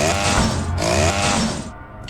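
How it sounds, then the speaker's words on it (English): A chainsaw roars in the Subway Exorcist Girl video game with a loud, steady buzzing rev that holds for nearly two seconds and then eases off. "Give me this chainsaw."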